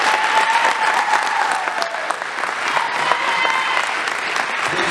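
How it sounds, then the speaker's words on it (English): Brisk, dense audience applause at a county opioid crisis forum after a district attorney candidate finishes speaking, continuous clapping across the whole clip at an even level. "Please hold your applause."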